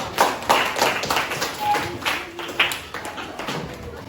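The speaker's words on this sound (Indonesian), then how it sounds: "tepuk tangan dong untuk kelompok 3" A class of students claps for a group in a classroom, irregular scattered hand claps and taps of moderate loudness with a few voices murmuring underneath.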